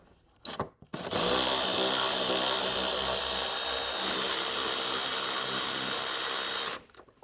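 A power tool spins out a tight 10mm bolt from a fog light housing on a 2021 Cadillac, a loud close buzzing whir lasting several seconds after a brief start, then stopping.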